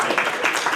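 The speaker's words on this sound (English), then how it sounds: "Let's give him another round of applause." Audience applause at a community holiday gathering, a dense wash of clapping that fills the short moment steadily without pause.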